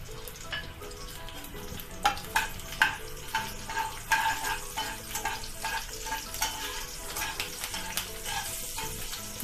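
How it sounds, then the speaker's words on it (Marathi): Green chilies fry in hot ghee, crackling and sizzling steadily, with a run of quick scraping stirs and clinks against the pan, heard close and with no speech. "मिरची चांगली भाजून घ्यायची"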